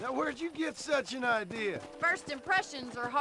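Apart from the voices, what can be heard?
None of the usual background noises is heard.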